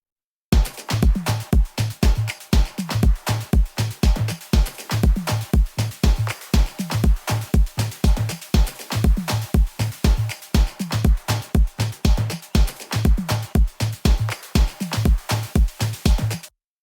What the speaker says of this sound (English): all the drums together sound like this along with a kick.